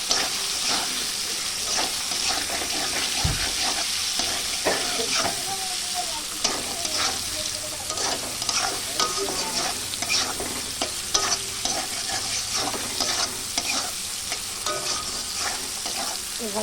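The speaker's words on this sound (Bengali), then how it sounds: "আলু দিয়ে নেড়ে করে নেবো" Fried potatoes are stirred into spiced masala in a pan for a tengra fish and brinjal dish, a continuous sizzle with frequent scraping spatula strokes close by and no speech.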